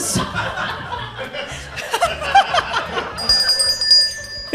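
A small bell rings with bright, sustained metallic tones near the end, amid chuckling and laughter in a busy room.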